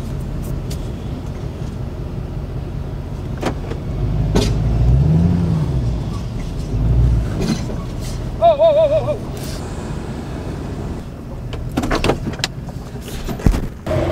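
A truck with chain wrapped around its axle revs its engine while pulling out of a soft, tacky field, a low rumble that swells and fades amid clunks and knocks and ends with a few sharp bangs.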